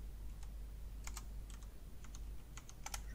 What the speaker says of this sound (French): Alors vous entendrez toujours mon clavier, c'est normal.